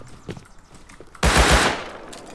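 Automatic gunfire in the video game Rust bursts out as a short, loud, close volley of rapid shots after a quiet moment.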